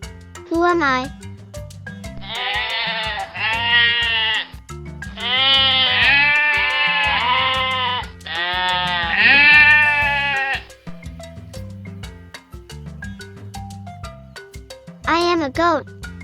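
A goat bleats in repeated wavering cries over light background music on a farm animal sounds quiz, with a brief higher bleat near the end.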